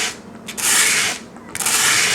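A guitar nut is sanded in two close, loud bursts of abrasive rubbing, separated by a brief pause, with no talking over it.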